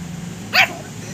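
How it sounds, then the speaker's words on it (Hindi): A pug puppy gives a single sharp bark once over a low background hum. "भौंक रहा है इसे।"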